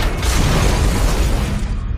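A loud explosive blast in a film trailer, a sustained, dense, broadband roar that fills the whole moment and then tapers slightly at the end.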